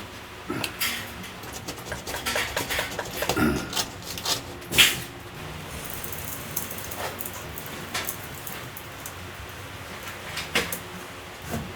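Wooden wall panel being notched with a hand tool, close scraping and rasping strokes with occasional sharp knocks, irregular and fairly quiet.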